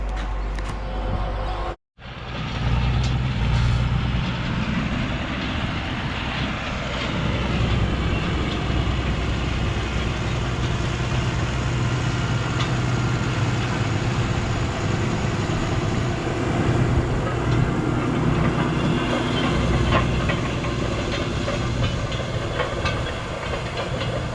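A tractor engine runs steadily while pulling a maize drill on heavy farmland, giving a loud, continuous rumble with a hissy texture and one brief cutout near the start.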